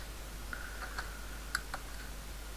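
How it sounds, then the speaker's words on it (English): Keys on a computer keyboard are tapped in a short irregular run of crisp clicks, close and fairly quiet over a steady low hum. "And now if I type here"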